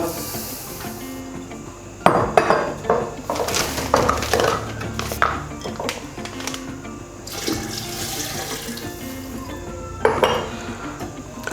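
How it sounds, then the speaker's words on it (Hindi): Between 1.5 and 2 litres of water pour into a cooking pot for chicken vegetable soup, splashing and gurgling alongside clanking metal and utensil knocks, close by with no talking. "पानी डाला।"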